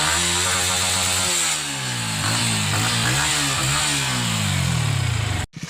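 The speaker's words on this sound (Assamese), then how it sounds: "চ' তাৰে বাইকত যাম আমি, এইটো চাব পাৰে R1" A Yamaha R1 sport motorcycle runs with a loud, steady engine drone that rises and falls slightly as it revs, close by, then cuts off abruptly at the end.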